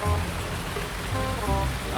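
Rain pours down steadily in a driving game with a CAT 323GC excavator, a dense constant hiss of drops on surfaces filling the whole stretch, with faint tonal game sounds beneath and no talk.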